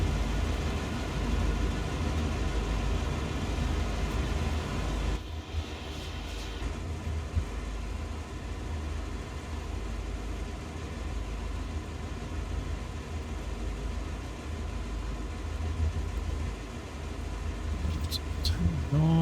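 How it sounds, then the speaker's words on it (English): Diesel rumble of GP9RM locomotive engines on the CN Oakville Subdivision in Train Sim World 5, a steady low drone throughout, with a voice talking over it. "I do love the sound of the engines when they get going."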